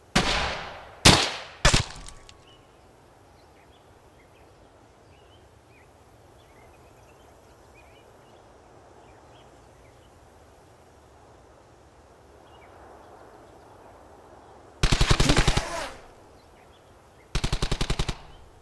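Machine-gun and rifle fire in the World War II game Brothers in Arms: Hell's Highway, a few sharp bursts at the start, then quiet ambience before two more loud, rapid bursts near the end.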